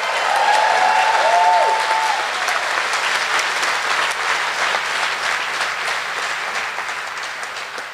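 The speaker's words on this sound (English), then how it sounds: "Can we get a small round of applause for Ben?" A small round of applause at a festival closing ceremony, clapping from an outdoor-sounding crowd that starts strong, with a brief whistle-like tone early on, and gradually tapers over about eight seconds.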